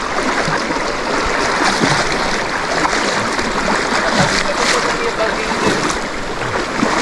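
Water rushes continuously in a loud, close torrent of a river current in Leyte, a dense broadband roar with no talk over it.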